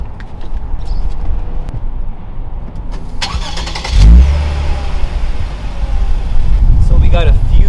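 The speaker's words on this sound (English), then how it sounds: "But you got the dual exhaust. And we'll show you what that sounds like." A 2023 Lexus IS 350 F Sport AWD with dual exhaust idles, then barks loudly into a deep revving roar around the midpoint, settling to a throaty rumble before revving again at the end.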